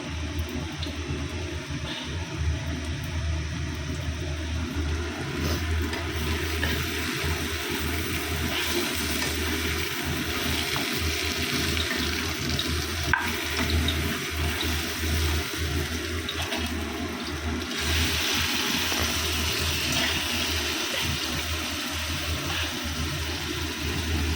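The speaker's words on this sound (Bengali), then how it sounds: "আর একটু জল দিতে হবে বন্ধুরা। তো আলুর দম বসিয়ে দিয়েছি, জল দিয়ে দিয়েছি" Water runs steadily into a pot of potato curry (aloo dum) being cooked, a continuous close rushing and splashing wash that holds for the whole stretch without any voices.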